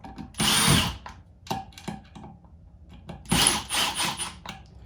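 A power driver drives a wood drywall screw in two loud whirring bursts, one early and one late, with short clicks and handling knocks between them.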